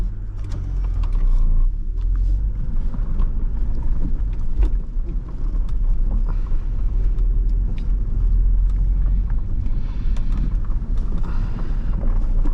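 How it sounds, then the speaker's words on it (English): A 2006 BMW Z4 3.0si driving on a gravel road, with a steady heavy low rumble of tyres and engine and scattered crackles of stones under the car, continuous throughout with no talking. "this car does not like these gravel roads"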